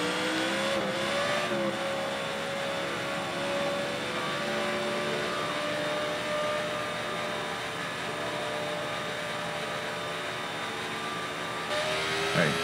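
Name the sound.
race car engine revving in the video game Nascar '14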